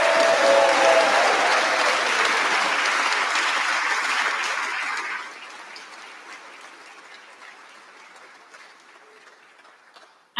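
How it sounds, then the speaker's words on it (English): Audience applause at a youth awards ceremony in Bristol, a dense, loud wave of clapping that holds for several seconds and then thins to scattered claps before fading out. "So if we could just give Holly a round of applause, please."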